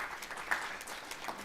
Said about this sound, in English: Round of applause, colleagues.